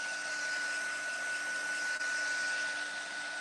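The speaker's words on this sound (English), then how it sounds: "you force it to dry like this with heat, you can get it to crack" Heat tool blowing steadily to force-dry thick paint on a mixed media sunflower painting, a constant loud whirring hum with a faint tonal whine and no pauses.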